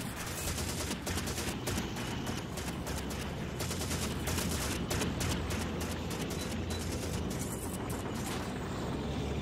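Continuous, loud machine gun fire in the video game Call of Duty 2, dense rapid gunshots with no pauses throughout.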